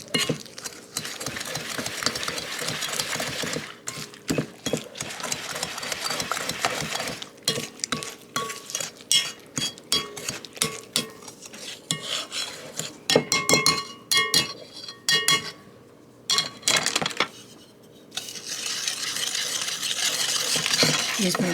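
Pumpkin cookie dough mixed by hand in a bowl, with irregular bursts of scraping, clinking and thumping strokes broken by short pauses, close up and without talk.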